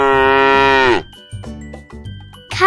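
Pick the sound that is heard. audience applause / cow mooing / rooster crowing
cow mooing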